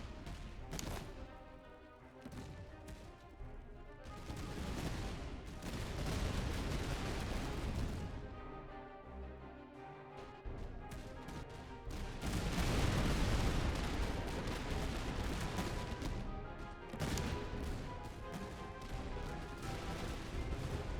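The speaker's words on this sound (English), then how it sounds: "The cannons are a big issue." Cannon artillery booms again and again in a Napoleonic-era battle strategy game, heavy blasts and crashes rolling in loud bursts over rumbling battle noise, with no talking.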